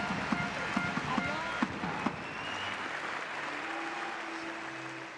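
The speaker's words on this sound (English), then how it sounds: "One more time, ladies and gentlemen, give it up, Elena Karatala." A crowd at a fitness competition final claps briefly, with a few sharp slaps and cheers fading into a steady hall hum as a voice continues.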